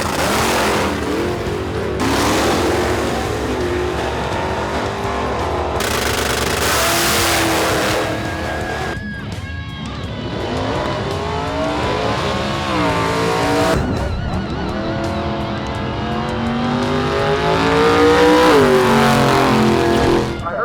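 Race cars accelerate hard on a track, engines revving loud and close with several passes, gear changes and brief tire squeal across the stretch.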